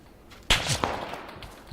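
Gunfire in a multiplayer shooter game, one sharp close shot with a quick follow-up crack and a faint later report, brief bursts against quiet background.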